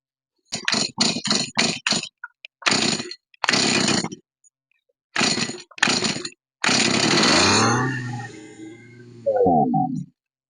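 A 1992 Stihl MS180 chainsaw that fails to start is pulled repeatedly, giving a string of loud rasping starter pulls before the engine briefly catches and sputters for a couple of seconds, then dies, followed by one more pull.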